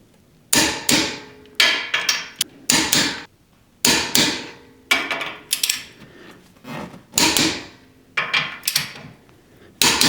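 Wheel lug nuts on a Honda Type R are torqued down during a tire change. Repeated sharp metallic clicks and clacks come in quick bursts separated by short pauses, close and loud.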